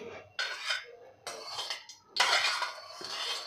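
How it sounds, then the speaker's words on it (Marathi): A slotted spoon scrapes and swirls round a metal kadhai of hot oil, with three bursts of metallic rasping and clinking separated by brief pauses. "आता हे तेल आपल्याला झाऱ्याने गोल गोल फिरवून घ्यायचं आहे"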